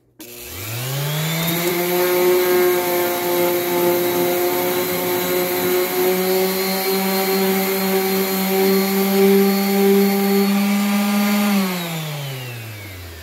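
A modified orbital disc sander, converted from a non-orbital sanding pad, spins up, holds a steady loud whining drone for about ten seconds, then winds down, heard close with no talk.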